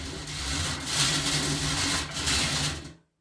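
A hand-cranked soil sieve churns compost as its handle is turned, a steady gritty grinding rumble, close and moderately quiet, that fades out at the end with no talking.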